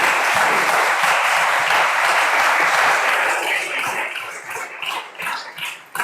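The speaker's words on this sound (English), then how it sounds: "So let's give the panel a round of applause" A conference audience applauds a panel at the close of a Q&A session, loud and sustained broadband clapping that thins out and fades toward the end.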